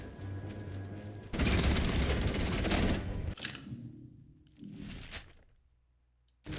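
Bursts of automatic gunfire in the video game Atomfall: The Red Strain, a dense rattling volley lasting a couple of seconds, then scattered shots and clatter fading toward quiet.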